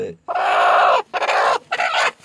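A broody black country hen on her nest gives three loud, drawn-out protesting clucks in a row, close by, with short gaps between them.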